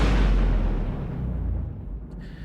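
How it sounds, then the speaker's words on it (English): A cinematic trailer whoosh from the AVA Instinct sound effects pack. It opens with a loud, dense, rumbling rush that decays over about two seconds into a fading airy tail. "Here are some whooshes."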